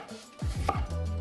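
A knife slices thinly through red cabbage on a board, several quick rhythmic chops close by, crisp and fairly loud, with no talking.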